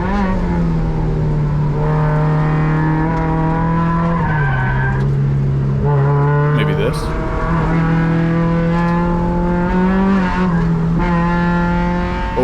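Race car on a track oversteering, engine droning loud and near while tires skid and squeal, pitch shifting as it slides and recovers.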